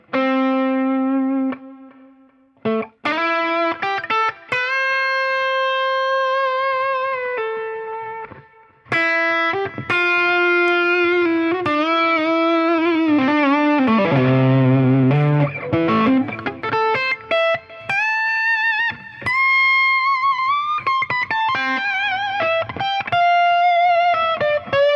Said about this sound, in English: You're hearing the reverb function like a delay